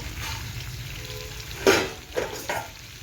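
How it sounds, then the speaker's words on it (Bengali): Fish curry with potatoes and young turnips sizzles while being sautéed in a pan, a steady close frying hiss broken by a few sharp scrapes of a spoon against the pan. "এইটাকে কষাচ্ছি আলু শালগম দিয়ে"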